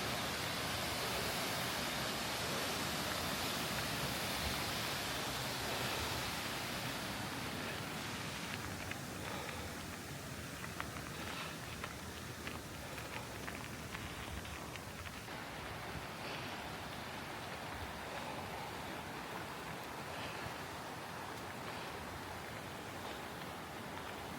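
Steady broadband rushing water roars continuously at Mill Creek Falls, a dense unbroken wash of falling water and a flowing creek, with no other sounds.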